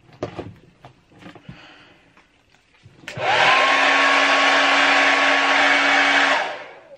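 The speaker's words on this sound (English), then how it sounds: "I'm going to take my hairdryer and just dry off all the glitter" A few handling clicks and knocks, then a hair dryer on its coldest setting switches on and blows with a loud, steady whoosh and whine for several seconds before cutting off.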